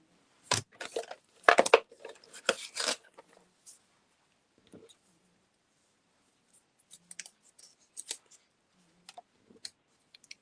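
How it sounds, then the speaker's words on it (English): Scissors snip through thin strips of paper for a fold card, giving a few quick close cuts and crinkles at the start, then sparse faint clicks and rustles as the paper is handled. "I'm going to cut a couple of strips."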